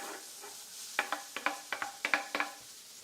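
Onions and celery go into a pan, giving a faint sizzle with a quick run of sharp utensil clinks and scrapes against the metal, close by and alone.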